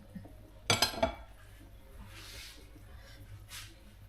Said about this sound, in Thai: ต้มลงไปในหม้อนะเพื่อน